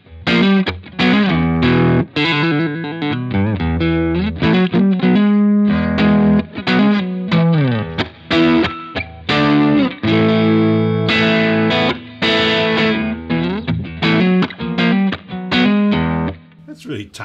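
Electric guitar played through a DigiTech Jimi Hendrix Experience multi-effects pedal with a distorted, chorused intro tone, loud and continuous with strummed chords and melodic fills ringing throughout.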